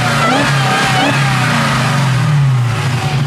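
A 1971 Dodge Challenger fitted with a Hellcat engine revs loud and close, a deep throaty roar rising and falling with no talk over it.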